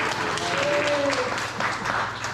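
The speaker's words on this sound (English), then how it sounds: "Yes, clap, please." Audience clapping among residents at a small community coffee gathering indoors, a steady close patter of hands lasting a couple of seconds with a voice briefly heard over it.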